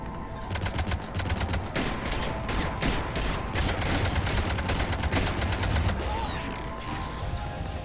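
Rapid cannon fire from the Mass Effect 3 video game, dense bursts of sharp repeated shots rattling almost continuously for several seconds, loud and close with no talk.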